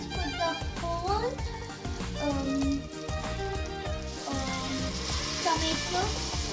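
Chicken frying in a pan with garam masala and tomato paste, giving a steady sizzle with occasional stirring under background music and a voice.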